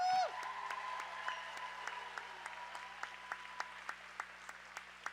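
At a junior roller derby event in a large hall, a crowd applauds for the volunteers, scattered clapping that thins into a few distinct claps heard from a distance, fairly faint, after a brief voice at the start.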